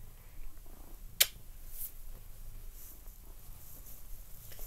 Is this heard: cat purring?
yes